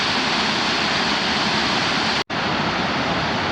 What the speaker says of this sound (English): This is the top of Middle Falls, and the water is just going down over the top.